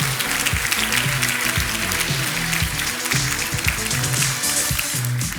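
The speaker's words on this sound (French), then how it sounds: "On peut les applaudir." Audience applauding at a Master's marketing graduation ceremony, dense continuous clapping from a large crowd filling the hall at an even level throughout.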